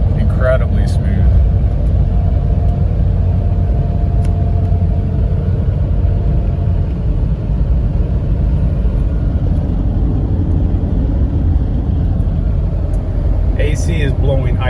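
A 1997 Toyota Land Cruiser FJ80 engine drones loudly at full RPM, heard from inside the cabin as a continuous heavy rumble through an upshift, with someone speaking over it.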